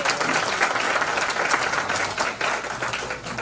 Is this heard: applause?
yes